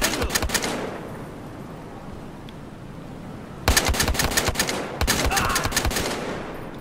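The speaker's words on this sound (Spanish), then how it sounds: "Es que empezó el tiroteo" Shootout in the video game Battlefield Hardline, rapid bursts of automatic gunfire in three loud volleys separated by a short lull, close and sharp with rattling rhythmic shots.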